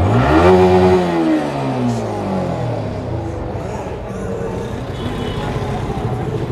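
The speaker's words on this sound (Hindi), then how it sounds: "तो गाइज एग्जॉस्ट साउंड सुनो इसकी यार, कितनी ज़्यादा खतरनाक है" A vehicle's exhaust blares out one loud, close rev that climbs and falls, then settles into a deep, rough rumble that holds steady.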